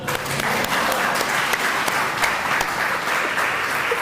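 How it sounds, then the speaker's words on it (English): Sustained audience applause after a spiritual lecture on the Bhagavad Gita, many hands clapping in a steady, even wash that holds at a constant level throughout. "So you can clap again."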